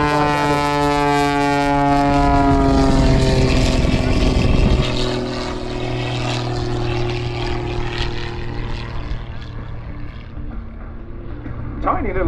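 A Pitts Special biplane flies at the Southport airshow in 2022, its propeller engine droning loudly overhead and shifting in pitch as it passes, while a commentator talks over the PA.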